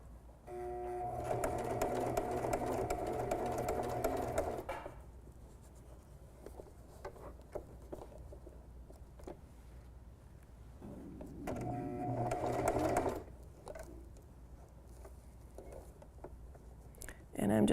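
A sewing machine stitches a small felt mouse ornament slowly, running in two steady, moderately loud bursts with quiet handling, small clicks and shuffling between them.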